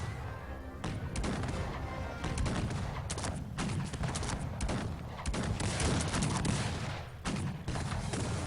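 Volleys of 17th-century musket fire in Cossacks 3 crackle in rapid bursts, with overlapping shots and a steady rumble of battle noise underneath, fairly loud and continuous.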